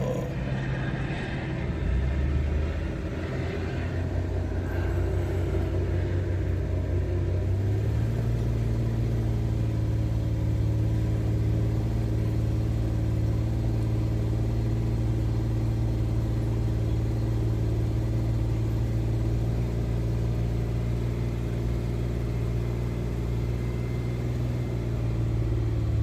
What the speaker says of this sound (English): Increasing engine speed to 2000 RPM. And hold it there until the countdown reaches 0.